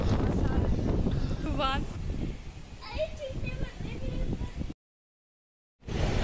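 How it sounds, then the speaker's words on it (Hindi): Strong wind roars and buffets the microphone in a steady low rumble, blowing dust about, while a voice talks over it, then cuts out abruptly. "इतनी ज़्यादा तेज़ हवा चली और साथ में जो है मिट्टी भी उड़ने लगी"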